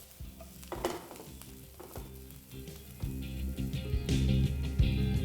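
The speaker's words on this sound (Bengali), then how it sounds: "পেঁয়াজটা যখনই দেখবেন ভালো করে ভাজা হয়ে গেছে" Onions sizzle in hot oil, the frying growing louder and denser, with occasional stirring scrapes in the pan.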